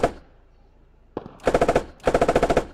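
Rapid automatic rifle fire from the tactical shooter game Squad, two loud sustained bursts of evenly spaced shots after a single sharp crack, with quieter distant firing fading out beforehand.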